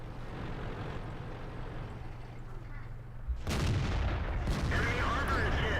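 An IS-3 tank in World of Tanks fires its cannon at an enemy E50: a deep rumble of engine and tracks, then a single loud, sharp boom with a long trailing roar and debris-like crackle.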